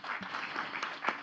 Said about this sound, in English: Please give a round of applause for Dafa.